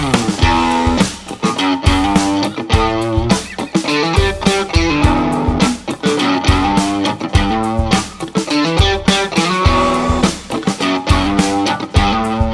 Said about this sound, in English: And when I played this guitar, I came up with this riff.